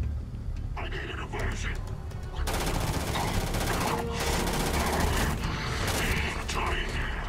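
In the video game Starfield, a weak gun rattles off rapid automatic bursts, with the firing growing louder and denser partway through. A voice talks softly underneath.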